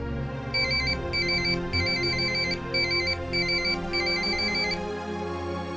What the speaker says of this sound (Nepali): डाक्टर शेखरले फोन गर्नुभएको